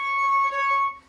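A single bowed string note played with the finger pressed too lightly on the fingerboard, a thin, airy, overtone-heavy tone sustained for about a second and fading, heard alone.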